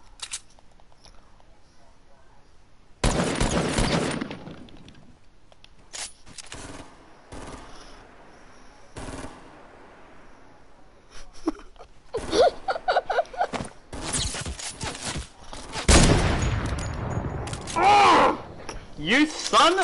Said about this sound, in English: Can you hear my gunshots?